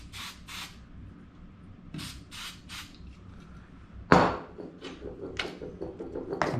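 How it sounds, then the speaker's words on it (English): Short bursts of old Aquanet hairspray sprayed as fixative onto enameling work, several quick hissing puffs in a row followed by a sharper clatter and more brief sprays, close by in a quiet room. "I'm going to apply my fixative with old Aquanet hairspray."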